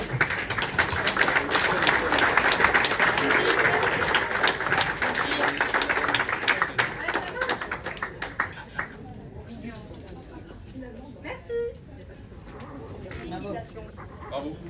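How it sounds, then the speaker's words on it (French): Audience applauding contestants from Bordeaux at the final of a breakfast and brunch contest, a loud clapping crowd that fades out over several seconds, leaving a quieter room with scattered voices and a few sharp knocks. "On les applaudit, ils viennent de Bordeaux."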